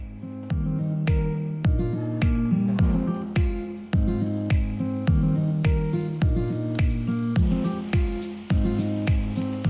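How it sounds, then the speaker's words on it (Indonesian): Chicken pepes with kemangi, wrapped in its marinade, fries in hot oil. The steady sizzling is crowded with rapid, regular popping bursts and spatters, loud and close by. "Dan sekarang bakalan kita langsung goreng."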